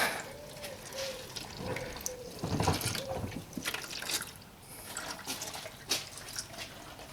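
Engine oil from a Mercedes A-Class drains into a pan with a faint, steady trickle and occasional drips, fairly quiet with some background noise.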